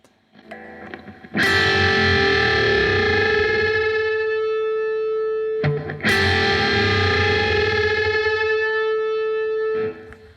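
Two long distorted electric guitar string bends, each ringing out loud and sustained with a wavering flutter as the bent B-string note beats against the fretted G-string note until they meet in pitch.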